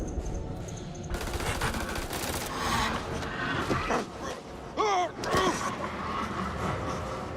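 Gunfire aimed at a vampire in the video game House of Ashes: a close, rapid stretch of shots with rising whooshes and cries, with voices nearby.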